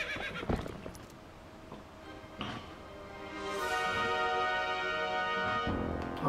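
A horse whinnying in the video game The Legend of Zelda: Twilight Princess HD, with a few hoof clip-clops and thuds before a long, loud, wavering neigh.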